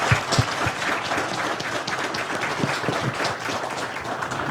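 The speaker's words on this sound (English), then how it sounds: "Can we get a round of applause?" Audience applause fills a panel discussion on community trauma, a steady, dense clapping from a crowd that holds at an even level throughout, with no voices over it.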